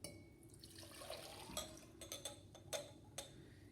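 An iodine mixture is poured into a cup in a liquid-splashing sequence of faint trickles and sharp spattering bursts close by, with no voices.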